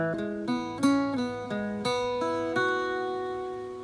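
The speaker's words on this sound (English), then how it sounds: "moving on to line 2 of the A section" Irish bouzouki picking out the second line of the A section of the Shaskeen Jig, a steady run of plucked notes in groups of three, each ringing with bright metallic overtones, close and alone with no voice.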